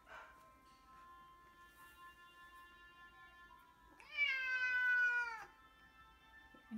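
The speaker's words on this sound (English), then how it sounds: "That was a cat." A single drawn-out cat meow rings out clearly over a quiet room, loud and close, lasting about a second and a half, with a steady faint tone humming in the background.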